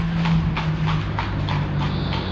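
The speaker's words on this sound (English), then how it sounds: "I see a horse and a cart." A horse pulling a cart clip-clops along in an even, steady rhythm close by, with a low rumble of wheels underneath.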